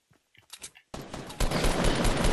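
Gunshots in the Fortnite video game: a few quiet clicks and short pops, then a sudden loud, sustained burst of close firing that grows denser toward the end.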